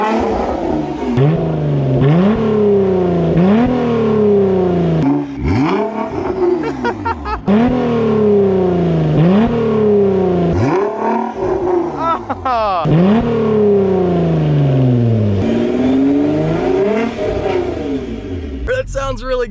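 A brand-new Jeep Gladiator with straight pipes cut in with a Sawzall, its engine revving hard in repeated rising surges, loud and close, with brief dips between pulls.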